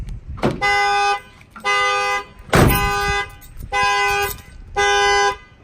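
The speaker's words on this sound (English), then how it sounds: "if you hit this twice without shutting off the alarm, it's going to fire off the alarm" A 2019 Ram 2500 truck's alarm horn blares in five loud, evenly spaced honks, each lasting under a second, with brief mechanical clunks between them.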